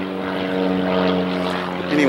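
A propeller airplane engine drones steadily and loudly from inside the cabin in flight, a continuous close hum with no break.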